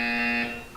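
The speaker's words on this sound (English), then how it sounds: "You will hear a buzzer. When you hear the buzzer, look up at the ceiling." A buzzer from the video game Portal 2 sounds once, a loud steady electronic tone lasting under half a second before fading out.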